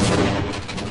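A grenade blast in the video game Half-Life Blue Shift. One booming explosion roars loud and close for a full second, broad and rumbling as it slowly fades, with no voices.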